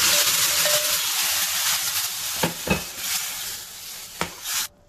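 Loud, continuous sizzle as lentils are added to fried onions, with a few sharp scraping stirs near the end, then sudden quiet.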